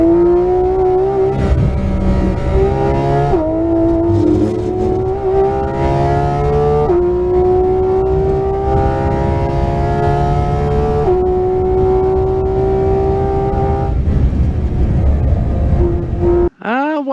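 A race car driven flat out on the Nürburgring, heard from on board: a loud, steady engine drone with harmonics stepping up through gear changes and a brief break near the end.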